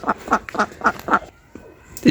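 Several ducks quack in a quick, uneven series close by, loud nasal calls, followed by a short pause and another sharp call.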